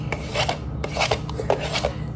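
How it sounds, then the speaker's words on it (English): Spoon scraping the last yogurt out of a container into an empty bowl, a run of short dry rasping strokes in uneven bursts, close and fairly quiet, with no talking. "I'll be back when I scrape this."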